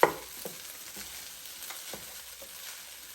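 Bacon fried rice stirred in a Power XL cooker: a steady frying sizzle with a few soft scraping stir strokes, close and quiet, no voices.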